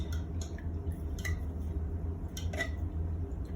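Dough ingredients with sugar being mixed in a bowl for sausage bread rolls, soft wet squishing and light scraping with a few sharp clinks of utensil against the bowl, quiet and close.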